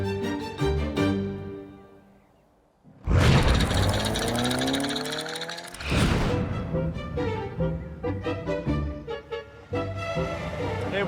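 A Pagani Huayra BC open-top roadster is driven hard, its engine rising in pitch through the gears, then cutting out briefly before a loud surge of acceleration and further revving, close and dominant.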